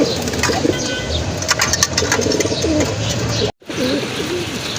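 Pigeons at a pigeon sale coo repeatedly, in soft warbling phrases over a constant background hum, with one brief dropout near the end.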